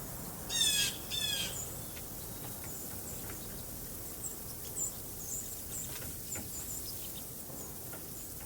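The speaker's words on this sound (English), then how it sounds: "Birds pepper the yard and surrounding trees, all frantically trying to keep pace with their metabolic needs." Backyard birds call in a snowy yard, among them juncos, white-throated sparrows and mourning doves: two sharp squawking bursts near the start, then scattered faint chirps and tweets over a quiet background.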